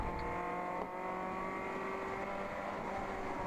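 A ChampCar endurance race car accelerating out of a corner at Gingerman Raceway, its engine holding a loud, steady droning roar heard close from on board, with no talk.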